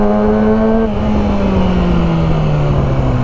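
A Dodge Viper sports car roars past close by, its loud engine tone sliding steadily downward in pitch as it goes by and pulls away.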